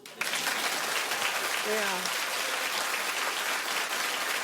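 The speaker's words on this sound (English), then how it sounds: "Clap if you feel like me" A studio audience on a daytime talk show breaks into sustained applause and cheering, with a voice briefly heard over the clapping early on.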